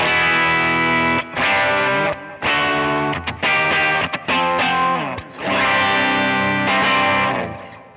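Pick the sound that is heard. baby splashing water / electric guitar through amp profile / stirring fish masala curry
electric guitar through amp profile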